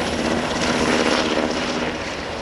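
Large military helicopters thunder overhead during an air show display at Omaka, a loud, steady rotor and engine roar holding nearly constant throughout with no talk.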